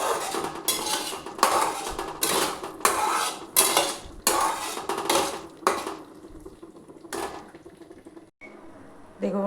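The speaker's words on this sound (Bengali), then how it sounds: "দেখুন মশলাটা আমি গ্যাসটা কমিয়ে মশলাটা ভাজছি" A spice paste with onion, garlic and cashew is fried over low gas in a pan, with repeated rhythmic scraping and clanking stirring strokes that fade toward the end.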